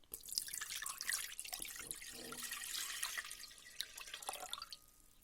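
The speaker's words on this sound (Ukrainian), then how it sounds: "У кастрюлю виливаю воду." Water pours and splashes into a cooking pot in a continuous gurgling stream for several seconds, then tapers off near the end.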